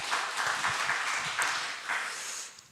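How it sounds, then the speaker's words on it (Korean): A church congregation at a Friday worship service in Incheon gives a short, moderately soft round of applause, with uneven clapping that swells and fades in a few waves before trailing off. "우리 감사의 박수 한번 부탁드리겠습니다."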